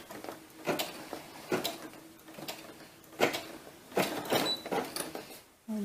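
A Brother SE-400 embroidery machine stitches in bursts, its needle tapping out quick mechanical runs broken by short pauses, moderately close and unaccompanied by talk.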